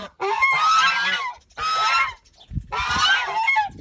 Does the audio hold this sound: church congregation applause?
no